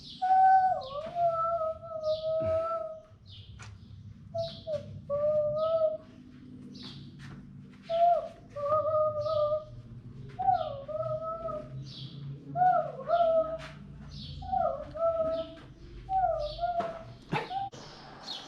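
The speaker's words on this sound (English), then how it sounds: "these are definitely birds" Birds call repeatedly in short whistled, chirping phrases at a steady rhythm, fairly close, at Elafonisi Beach in Crete, with low background rumble and occasional faint voices.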